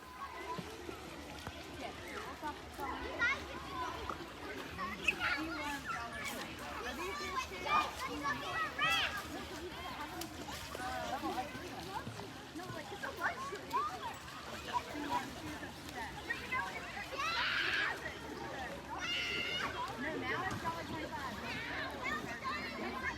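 Kids play in a cool creek, their distant shouts and chatter mixing with occasional splashes over a constant wash of flowing water.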